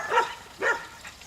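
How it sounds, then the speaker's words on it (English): Two sharp dog barks in quick succession, fairly close, followed by a fainter yelp. "with the dogs barking"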